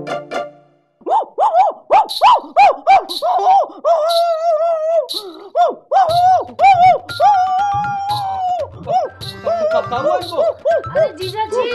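A woman imitating a dog, barking repeatedly in loud, rhythmic bursts in an Indian comedy scene, with laughter and other voices mixed in.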